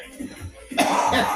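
A person gives a short, sharp cough burst that rings out close to the mic after a quieter stretch of indistinct background sound.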